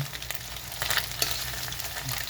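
Chicken skin crackles and sizzles as it fries in its own rendered fat, a steady close sizzle with brief louder bursts, no voices.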